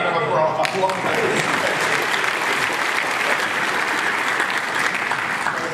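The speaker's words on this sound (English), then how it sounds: "That deserves a round of applause." Audience applause at a WiGig wireless demonstration, loud sustained clapping from a crowd that starts abruptly and carries on evenly for several seconds.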